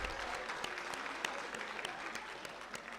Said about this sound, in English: let us have a huge round of applause for this gentleman